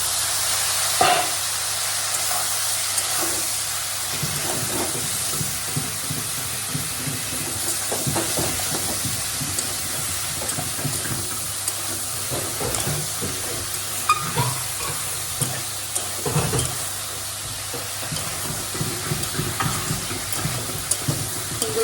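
Chopped stems hit hot oil with fried garlic in a home kitchen, giving a steady close sizzle with scraping stirs and occasional clinks running throughout.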